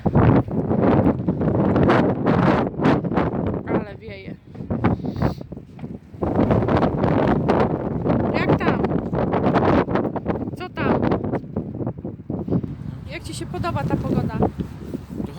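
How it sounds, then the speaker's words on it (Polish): Strong gusty wind roars and buffets the microphone outdoors in wet, stormy autumn or winter weather, loud and continuous with surging gusts, while people talk over it. "Ale wichura"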